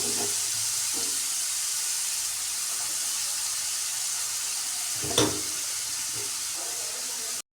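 Chopped ridge gourd and cabbage frying in masala in a pan over a medium flame, giving a steady close sizzle and hiss throughout with a few brief stirring clatters.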